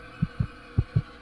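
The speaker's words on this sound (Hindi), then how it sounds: "मेरे दिल की धड़कनें, मेरे खून का मेरे रगों में दौड़ना।" A heartbeat sound effect thumps in two paired double beats, low and muffled, evenly spaced over a faint steady hum with no voices.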